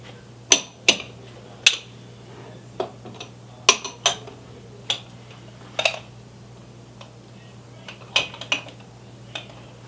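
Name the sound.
ceramic soup bowls being placed behind peacock plates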